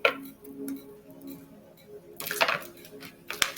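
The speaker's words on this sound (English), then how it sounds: "Just going to shuffle once more." An Osho Zen tarot deck is shuffled by hand in a quiet room: soft scattered card taps give way to a denser, louder riffle of papery flutters near the end, close by.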